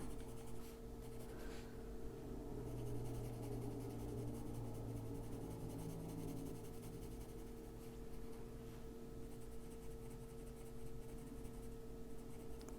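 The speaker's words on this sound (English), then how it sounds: "We are using very light pressure here, just dragging our pencil over the top of the paper." A colored pencil drags lightly across paper while a squirrel page in an adult coloring book is filled in, a faint, continuous soft scratching over a low steady hum.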